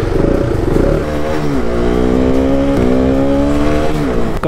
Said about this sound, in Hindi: ओहो, बाइक तो पहली बार ही स्टार्ट हो गई।